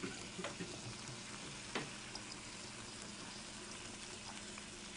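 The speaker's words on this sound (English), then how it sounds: "our pork chops, as you can see, are frying in the pan here" Quiet, steady sizzling and crackling of pork chops frying in a pan, with a few small pops and clinks.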